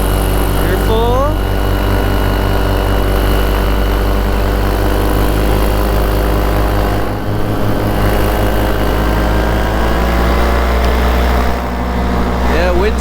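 A Vittorazi-powered paramotor engine runs loud and steady near the microphone, its prop drone constant for the whole stretch while the pilot powers up for takeoff, with a few voices faintly underneath.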